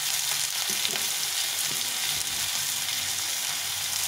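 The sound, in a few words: spices being fried and stirred for masoor dal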